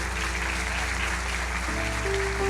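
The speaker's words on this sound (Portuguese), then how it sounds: "Uma salva de palmas para o Carlos." An audience applauds steadily, the clapping sitting under a constant low hum and an electronic tone that shifts partway through.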